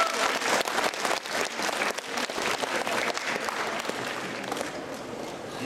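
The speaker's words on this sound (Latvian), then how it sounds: "Kāpēc tik klusi aplausi?" Audience applause fills the hall at a Latvian book festival ceremony, dense continuous clapping from a crowd that holds steady for several seconds.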